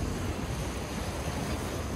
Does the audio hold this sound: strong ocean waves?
yes